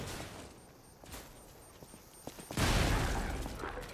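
Gunfire in the video game Lies of P starts as a few scattered snaps and ends in one loud, dense burst that fades out against a quiet game background.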